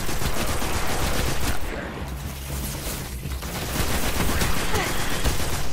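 Rapid, dense gunfire crackles continuously from a fusion rifle in the Destiny video game, loud and unbroken with a slight lull midway before intensifying again.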